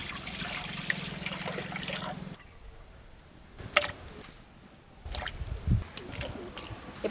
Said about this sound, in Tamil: இப்போ ஆட்டுக்கால் வேக போடுறதுக்கு நம்ம வந்து தண்ணி ஊற்றிடலாம்